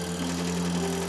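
A noisy desi air cooler runs nonstop, giving a steady loud mechanical hum with a constant motor drone and whirring fan, close and unbroken throughout.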